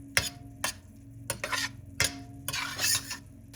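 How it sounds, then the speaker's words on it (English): Diced tomatoes cook in a pan for palak paneer, with a steady sizzle broken by several sharp scraping stirs of a utensil against the pan, close and fairly loud. "Add 2 diced tomatoes and cook until they soften completely."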